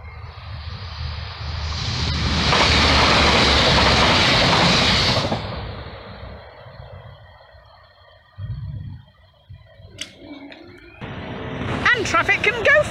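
A train rumbles loudly past at close range through the Thorpe Willoughby level crossing for several seconds, then fades; afterward quieter ambient noise and a few sharp clicks and chirps follow.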